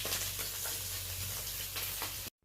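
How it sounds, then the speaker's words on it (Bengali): Small mourola fish sizzle steadily in hot oil, a dense continuous crackle with occasional louder spits, close and loud, then cut off abruptly near the end. "বাকি মাছটা সেমভাবে আমি ভেজে নেব"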